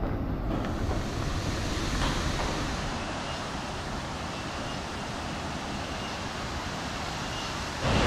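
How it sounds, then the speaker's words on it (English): A waterfall at a resort in Coorg, Karnataka roars as a continuous, loud, broadband rush of falling water, steady and close for the whole stretch. "the water from the waterfall is making a lot of noise and is interrupting my video"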